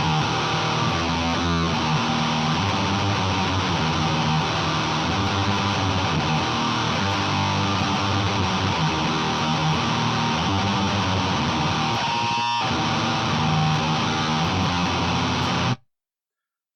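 Electric guitar played through a Boss HM-2 distortion pedal, with level and distortion backed off slightly for a tamer Swedish death metal tone: a dense, loud, continuous distorted wall of chords, briefly dropping out near the end before stopping.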